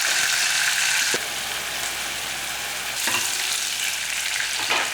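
Sliced onions fry with a pinch of salt in a pan, a loud close sizzle that dips briefly and surges again as a utensil scrapes and stirs.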